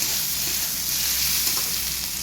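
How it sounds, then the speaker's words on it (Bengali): Spice masala for rohu fish fries with a steady, dense sizzle, close and fairly loud, with soft stirring under the constant crackle. "এবার মশলাটাকে আর একবার ভালো করে কষিয়ে নেব"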